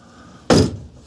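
A solar panel control box for a 48V wind turbine setup is opened with a single loud, close thunk of its door, followed by a fading rattle.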